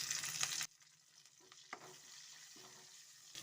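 Onions and curry leaves frying in oil. A loud burst of sizzling cuts off abruptly, leaving a faint, quieter frying hiss with a few light utensil clicks.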